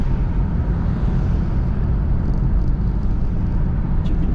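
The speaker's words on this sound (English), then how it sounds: "traffic's picking up" City street traffic on a drive around Branson, Missouri: a steady, dense low rumble of engines and tire noise, constant and close, with no clear individual events standing out.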